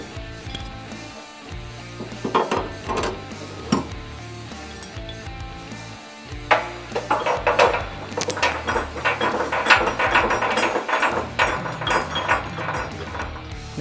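A ratchet tightens locking bolts on a base plate for a running board fixture on a 2015 Ford F150, with loud close clicking ratchet strokes and metallic clinks in repeated bursts, growing busier and denser toward the end.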